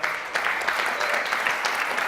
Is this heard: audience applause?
yes